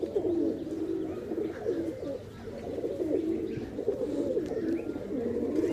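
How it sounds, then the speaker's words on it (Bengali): About seventeen flying pigeons arrive and land close by, cooing steadily, their soft overlapping calls continuing with faint rustling behind them. "ওই যে দুই চার ছয় আটশো দশ বারো চোদ্দো ষোলো সতেরোটার মতো কবুতর আসছে"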